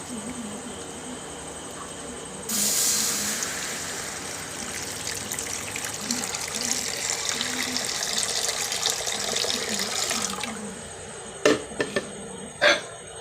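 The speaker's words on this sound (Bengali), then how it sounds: "প্রথমে কড়াতে জল দিয়ে দিচ্ছি কড়াইতে" Water pouring from a vessel into a wok to cook chow mein, a steady splashing gush lasting about eight seconds, then a few brief clanks from the pan, with no voices.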